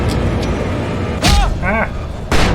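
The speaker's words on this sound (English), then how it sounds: "Now I know why I didn't use the shotgun." Shotgun blasts in Alan Wake Remastered: two heavy, booming shots land about a second apart, loud and close. A wavering vocal-like cry sounds between them over a low background rumble.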